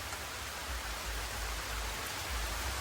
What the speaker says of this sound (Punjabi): ਪੂਰੇ ਜ਼ੋਰਾਂ ਦੇ ਮੀਂਹ ਆ ਗਿਆ